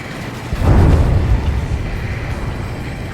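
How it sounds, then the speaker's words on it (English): A heavy underwater explosion in the Ace Combat 7 air combat game bursts out as a deep muffled boom, then rolls into a long rumbling decay that fades over a few seconds. "A huge explosion just went off underwater."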